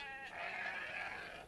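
Sheep bleating in the video game Age of Empires II: Definitive Edition, a single drawn-out, wavering bleat lasting over a second, fairly close and alone without talk.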